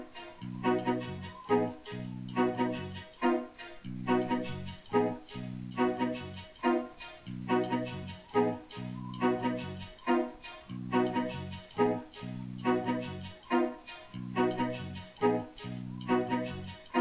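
The Bowgart monster from My Singing Monsters sings on the Cold Island in a looping, rhythmic musical phrase with steady bass pulses and bright repeated tones, continuous and evenly loud throughout.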